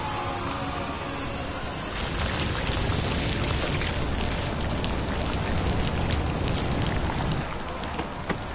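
Rain falling in The Witcher 3, a dense, steady hiss of drops on surfaces that grows slightly heavier partway through and continues evenly without talk.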